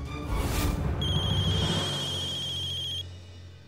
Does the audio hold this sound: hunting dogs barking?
no